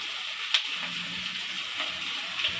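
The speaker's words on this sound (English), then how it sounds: "I'll be deep frying the pork until it turns a golden brown color" Steady, hissing sizzle of pork deep frying in oil, constant and fairly close, with a couple of faint pops.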